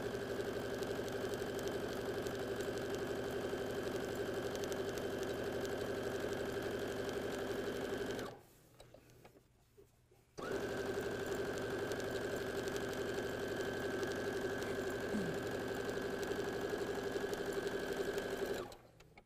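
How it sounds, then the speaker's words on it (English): Sewing machine stitching crazy quilt blocks, a steady fast mechanical whir that runs continuously, pauses for about two seconds midway, then resumes at the same pace. "I literally just moved my cutting mat right next to the sewing machine just to help me keep all of my layers together and in the right order as I stitch."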